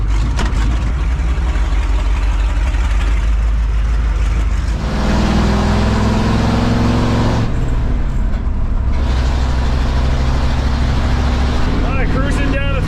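Chevy K30 4x4 rollback truck engine holding a steady, loud drone at freeway speed, with low rumble and road roar continuing throughout and brief shifts in tone midway.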